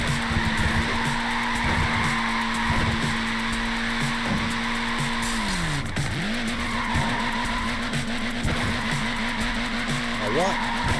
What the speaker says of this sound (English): laying down some rubber there